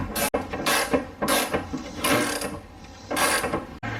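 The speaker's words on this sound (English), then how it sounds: "right now I'm just tightening everything down." Ratchet wrench clicking in quick bursts as bolts are tightened on a rebuilt subframe of an R32 Skyline GTR, about five close, loud runs of rapid pawl clicks with short pauses between them.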